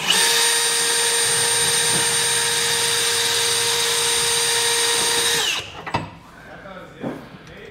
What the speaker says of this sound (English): Now we can take a very small drill bit and drill a pilot hole